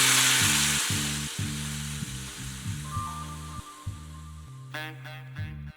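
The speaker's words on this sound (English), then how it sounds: "Flip your tortilla and cook until both sides are crispy." Birria taco tortillas fry in a pan until crispy, a steady close sizzle that is loudest at first and then sits under prominent background music with a stepping bass line.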